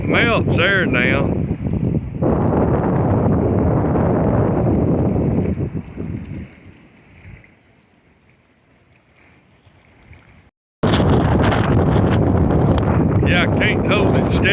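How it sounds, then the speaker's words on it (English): Loud wind buffets a microphone outdoors on a warm, high-wind Christmas Eve evening while someone talks, then it drops to a quieter hiss before a sudden cut and a return of the full roar with speech. "Saying if this wind don't knock me over."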